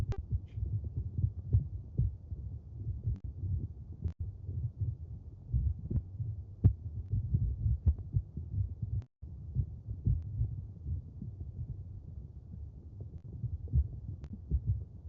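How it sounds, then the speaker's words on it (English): Low, muffled rumbling of woodland soil recorded with contact microphones, with scattered faint clicks and ticks, steady and close, with no voices. "This is the sound of the soil of Martin Wood."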